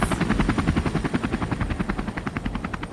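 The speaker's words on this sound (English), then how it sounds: "Oh man, I think it's an NYPD helicopter." An NYPD helicopter passes overhead, its rotor thudding in a loud, fast, even rhythm that stays close and steady throughout.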